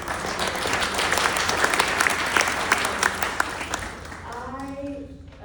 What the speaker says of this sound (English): So we once again applaud you for that.